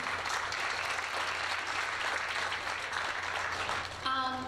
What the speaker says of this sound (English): So just give yourselves a round of applause.